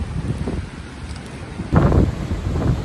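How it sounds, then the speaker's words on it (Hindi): Strong wind buffeting a microphone by the sea at Mumbai's Bandra seafront, a steady low rumble that swells into louder gusts partway through, with no talking. "इधर विंड बहुत जोर से"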